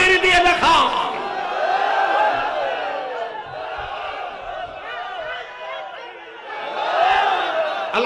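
Large crowd responding to a call at a Bengali religious sermon, a loud collective takbir chant rising and falling across the clip, swelling again near the end, with many voices blended together.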